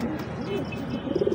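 Ferozpuri pigeons, a male and female breeding pair, give soft low coos close by, ending in a short run of rhythmic pulses.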